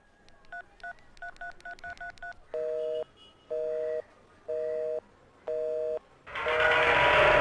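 A telephone number dialed on a keypad, a quick run of short touch-tone beeps, then four longer steady ringback tones, ending in a sudden loud burst of noise.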